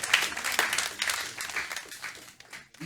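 A church congregation during a worship service applauds in a sustained burst of clapping and cheering, moderately loud and spread through the room, with no talk over it.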